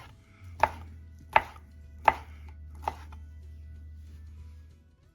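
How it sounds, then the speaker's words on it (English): Andouille sausage cut into small cubes on a cutting board: four sharp, separate knife chops about 0.7 seconds apart, close and clear over a steady low hum, with no talking. "This I'm going to cut into small little cube shapes."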